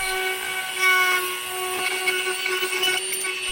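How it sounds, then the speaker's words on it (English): Dremel rotary tool with a steel pointed tip cutting a slot into a clip, a continuous high-pitched whine close up, with small shifts in pitch and load as the bit bites. "For the end cuts, I decided to go with a steel pointed rotary tip. Dremel tools are pretty neat and versatile."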